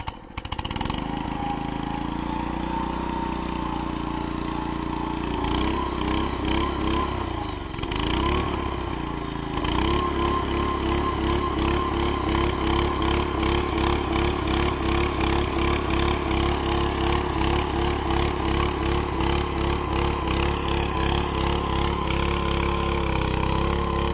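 A two-man motorized post hole digger's small gasoline engine sputters, starts and then runs loud and close, with a steady rapid chugging throb that continues without pause.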